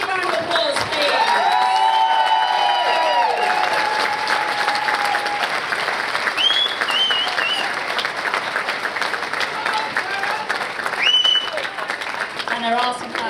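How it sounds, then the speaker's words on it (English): An audience at a speech event gives a big round of applause for an organiser, loud continuous clapping with scattered cheers and whoops, while voices and a few high shouts rise over it near the end. "Can I have a big round of applause, please?"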